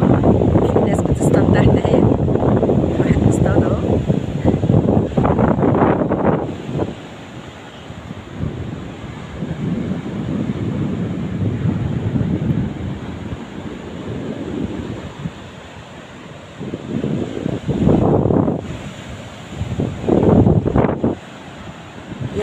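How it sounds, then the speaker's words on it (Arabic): Sea waves wash onto the beach at Marsa Matruh, a loud, continuous surf roar with heavy wind buffeting the microphone. Swells rise and fall through the stretch with no talk. "سايباكم تستمتعوا بصوت البحر، ويا رب تكونوا سامعينه."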